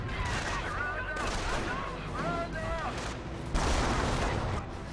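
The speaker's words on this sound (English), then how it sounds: "Look at this, the MG on top of the Stug just killed a retreating rifleman." Machine-gun fire from the MG mounted on a StuG in a WWII strategy game, with rapid bursts and distant booms over a continuous din of battle, and someone talking over it.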